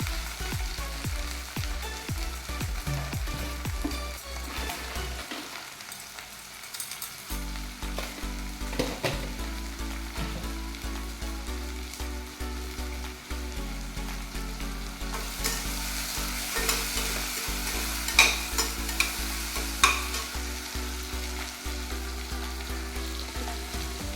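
Onions and tomatoes for mushroom biryani fry in a pan with a loud, steady sizzle, broken by repeated scraping stirs and a brief lull partway through.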